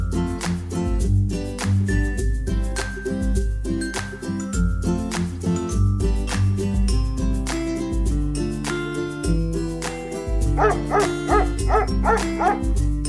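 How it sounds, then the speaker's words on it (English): Australian cattle dog, or blue heeler, barking and yipping repeatedly over loud background music, with a quick run of sharper barks near the end. "The Australian cattle dog,"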